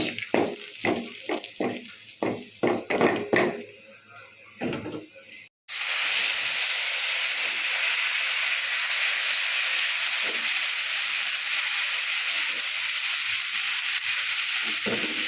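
Black cumin seeds and two dried red chilies drop into hot oil, preceded by a run of sharp knocks and clatter, then a loud, steady, hissing sizzle carries on close by.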